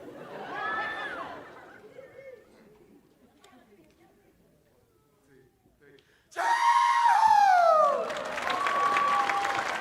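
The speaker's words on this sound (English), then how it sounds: "can you give us your biggest cheer to your whānau out there?" A school crowd at a Pasifika cultural festival cheers loudly and screams for the Hamilton Boys' performers, bursting in suddenly and strongly after a quieter stretch where a host's voice is heard.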